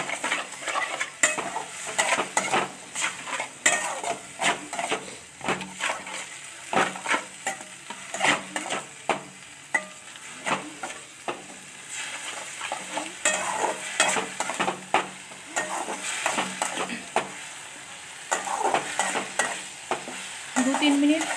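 Spicy chicken soup ingredients with soy sauce and white vinegar stirred in a pan, a steady run of close scraping and clinking spoon strokes over a soft sizzle, with no talking.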